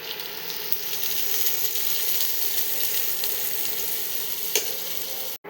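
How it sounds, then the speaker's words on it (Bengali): Hot oil sizzles and crackles steadily in a pan as onions fry, a continuous close hiss at even loudness with a few sharper pops and no voices. "প্রথমে আমি তেল গরম করে নিয়েছি পনিরের জন্য, এরপর আমি পেঁয়াজ দেবো ভাজার জন্য"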